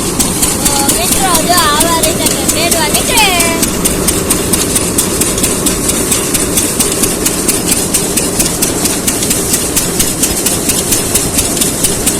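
A tractor engine idles on a farm, a steady low rumble that runs unbroken throughout, with a brief voice heard early on.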